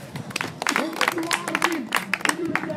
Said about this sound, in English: Please give a hearty applause for him.